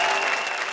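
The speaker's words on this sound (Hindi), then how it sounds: "हम जोरदार तालियों से स्वागत करें" A stage audience at a poetry show bursts into applause to welcome the poet Pradeep Choubey, a short, full burst of clapping heard on its own.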